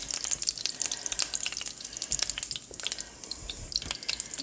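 Meatballs fry in oil in a pan, a close, continuous crackling sizzle with sharp popping spatters throughout and no voices.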